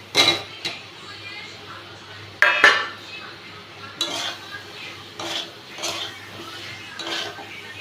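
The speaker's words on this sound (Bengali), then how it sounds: "ভালো করে ভেজে এতে দিয়ে দিচ্ছি আলু পটল ভেজে রাখা।" Potatoes and pointed gourd being fried in a pan, with scattered clinks and scrapes of a spatula or spoon against metal over a faint background hum, some sharper knocks standing out.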